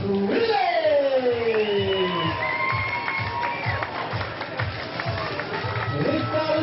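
A crowd cheers and murmurs at an amateur boxing and martial arts fight night, a steady roar under a voice speaking over a loudspeaker.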